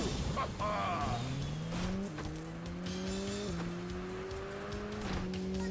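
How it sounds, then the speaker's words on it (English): Several race car engines roar continuously in a Sonic & Sega All-Stars Racing kart race, their pitch climbing and shifting as they rev and shift gears, with tire squeals and skids cutting in over the loud, steady engine drone. "the sounds of all the engines are way too loud"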